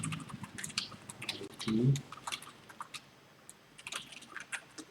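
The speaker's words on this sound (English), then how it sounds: "let me type this out first" Someone types on a computer keyboard while writing smart-contract code, a quiet irregular run of close key clicks, with a short soft voice partway through.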